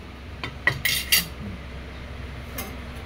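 Dishes and cutlery are cleared up after a home meal of chicken curry: a short cluster of close metallic clinks and clatters, then a single later clink over a quiet room.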